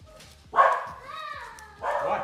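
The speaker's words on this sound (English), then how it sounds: "I had to get the food from the door, and the dog was going crazy." A dog barks and whines excitedly as food is delivered to the door, with short yelping bursts rising over a person talking nearby.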